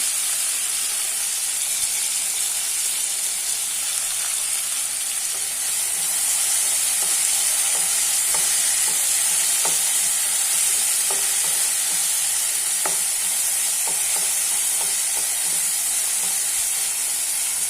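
Tomatoes with salt sauté in a pan for a village-style sundakkai vathal kuzhambu, a continuous loud sizzle and hiss with soft scrapes and clicks of stirring scattered throughout, no voices.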